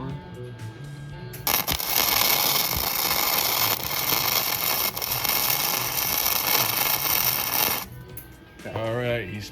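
Tack welding on a steel flagpole outdoors, a loud, steady crackling buzz of the welding arc running for about six seconds with short quieter gaps around it and a voice speaking near the end.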